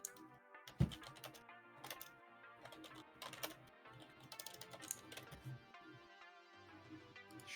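Faint computer keyboard typing at a normal pace, irregular bursts of soft key clicks with gaps, quiet and close, with a single louder thump near the start.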